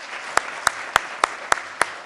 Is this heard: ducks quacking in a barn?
no